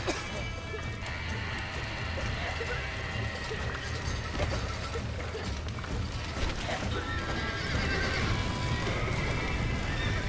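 In the video game Red Dead Redemption, horses whinny and neigh amid clattering hooves and occasional crashing thuds, a busy, continuous scene with a faint speaking voice in the background.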